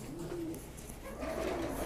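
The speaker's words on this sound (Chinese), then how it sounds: "我们现在放鸽子" Homing pigeons are released from a loft in the afternoon, with soft nearby cooing and faint bird calls over a low outdoor hum.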